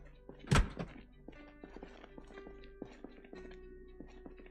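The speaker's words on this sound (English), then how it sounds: "Yep, I hear that little bastard banging away." A zombie bangs on a door in the video game Project Zomboid, one heavy thud standing out, then smaller knocks and taps at an uneven pace under a faint steady background hum.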